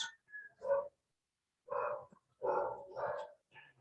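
Dogs barking in a commotion with cats, several bursts of excited barks and yips in quick succession separated by short silences, close and loud.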